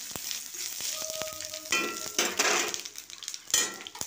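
A split chili with bay leaves and cumin frying in mustard oil, a close crackling sizzle with bursts of popping spatter, light clinks of a spoon against the pan, no talking.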